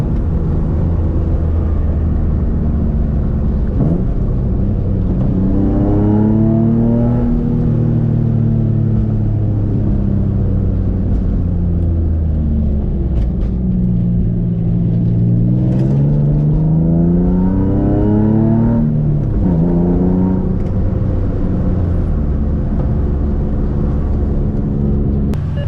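A Nissan 350Z's engine heard from inside the car as it downshifts, loud continuous drone with several rising and falling rev sweeps as gears change and the throttle is blipped.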